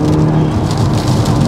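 A tuned stage-two 352bhp Audi S1 drives hard through wet weather, its engine note droning steadily and close, with the hiss of spray and rain over a constant loud road roar.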